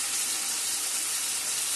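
Vegetables frying in a pan, an unbroken dense hiss of sizzling oil, steady and close, with no voices.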